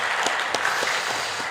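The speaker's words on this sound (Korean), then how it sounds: "하나님께 한번 감사와 영광의 박수 한번 올려드릴까요?" Church congregation at a Sunday worship service in Ulsan breaks into steady applause, a dense, even wash of many hands clapping with a few sharper claps standing out, no voices over it.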